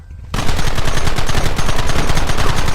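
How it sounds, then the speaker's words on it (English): Gunfire in a Red Dead Redemption shootout opens with a sudden burst of loud, rapid shots, then keeps going as a dense, continuous volley close at hand. "There they are! Open fire!"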